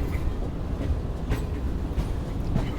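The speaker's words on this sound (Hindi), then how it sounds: "पीछे पीछे देख सकते हैं पूरी ट्रेन कर्व होती हुई आ रही है" The Shalimar Express, hauled by a ZCU-30 locomotive, rolls around a curve in Pakistan with a steady rumbling roar and repeated rail clatter and clicks, heard up close and continuously.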